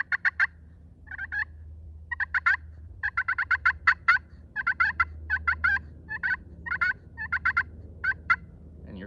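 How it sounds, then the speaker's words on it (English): A slate turkey call scraped in a run of short, rhythmic yelps and clucks, close and clear, repeating steadily with brief pauses and no talking. "you're dragging your call slowly across the surface"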